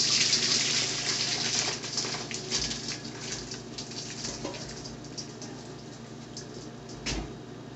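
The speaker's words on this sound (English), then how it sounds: "let's go ahead and drain the broccoli" Freshly boiled, softened broccoli is drained, with a steady rush of hot water pouring out loudly at first, then easing into a thinner, splashing trickle with a brief surge near the end.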